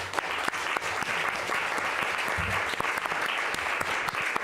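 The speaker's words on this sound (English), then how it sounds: "An applause." Audience applause at the close of a university lecture session on loneliness and social inclusion, steady dense clapping from a moderate-sized room, held evenly for several seconds with no talk over it.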